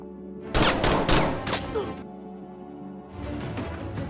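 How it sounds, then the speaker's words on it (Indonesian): Gunfire from a shootout in the Jackie Chan action film Vanguard crackles in sharp bursts under a narrator's voice, with a lull and then another volley. "terjadilah baku tembak di sana"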